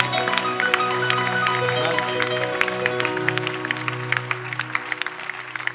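A church congregation claps steadily throughout, a dense patter of hands over sustained musical tones, with a voice briefly heard.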